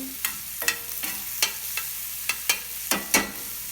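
Food sautés in a pan under a steady low sizzle, with a spatula scraping and knocking against the metal in irregular strokes several times.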